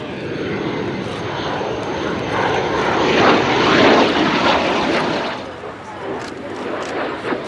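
A Folland Gnat jet built in 1964 roars through a flypast at an air show, its broad engine noise swelling to a peak mid-pass and then easing off while staying loud throughout.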